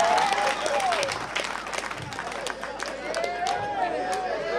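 Congregation applauding for Jesus during a church sermon, lively sustained clapping from many people mixed with cheering voices and crowd chatter, fairly loud and close.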